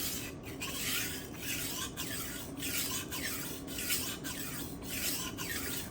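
A knife blade is drawn over a 320 grit sharpening stone on a SharpWorx Master 2 guided sharpener, giving about eight even, rhythmic gritty rasping strokes up close, quiet and unaccompanied by voices.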